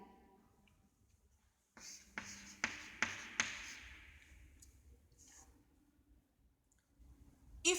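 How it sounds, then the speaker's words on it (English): A few sharp marker taps and strokes as a carry digit is written at the side of a board during an arithmetic lesson, then softer scratching, with a brief clatter at the end. "So let me write the carry here at the side."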